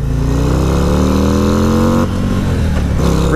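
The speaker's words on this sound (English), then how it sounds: "Rev limiter." A Harley-Davidson Road Glide ST engine revs hard up to its rev limiter, loud and close, with the pitch climbing steadily before bouncing off the limiter near the end.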